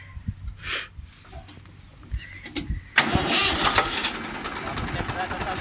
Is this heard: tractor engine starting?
yes